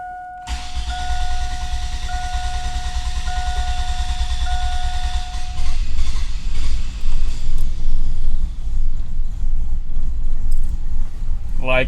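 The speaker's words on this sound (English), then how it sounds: "You can see this thing is very hard starting." A car in a shop with a very hard starting fault cranks at length, a long run of rapid starter churning with chiming and jangling over it, then rougher, louder engine noise as it strains to catch.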